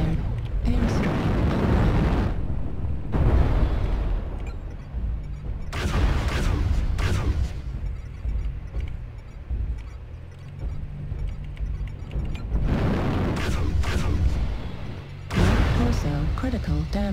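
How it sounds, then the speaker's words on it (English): Heavy airstrike explosions in the MechWarrior Online video game, Faction Warfare mode, arrive as repeated loud booming bursts with rumbling between them, mixed with game sound and a synthetic voice announcing status. "New target acquired. Airstrike."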